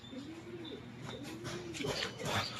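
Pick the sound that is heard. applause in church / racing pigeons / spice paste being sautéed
racing pigeons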